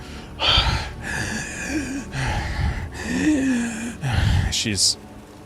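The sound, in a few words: voice imitating gasping, labored breathing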